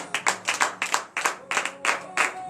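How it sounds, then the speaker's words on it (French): A church congregation claps in rhythmic bursts during a morning prayer service in Benin, steady and close, with no talk over the applause. "Donnez l'acclamation au Seigneur Jésus."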